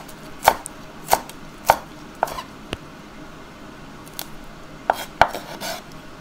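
A knife chops shallots on a cutting board for mushroom larb, about nine sharp, distinct strikes spaced unevenly, with a short pause in the middle, close and fairly loud with no talking.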